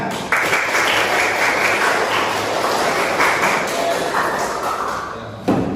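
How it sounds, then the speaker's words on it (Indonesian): An audience at an Islamic religious talk breaks into applause, dense continuous clapping starting abruptly and holding steady before cutting off near the end. "Tepuk tangan."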